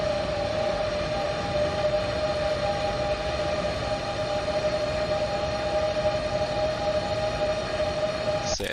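A train accelerating in Train Sim World 3, giving a steady loud drone with sustained tonal whines and a dense rumble, continuous and unbroken with no one speaking.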